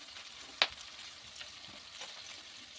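Drumstick leaves hiss in hot oil in a pan while cooking munagaku pachadi, a soft steady sizzle with a small pop near the start, faint and even throughout.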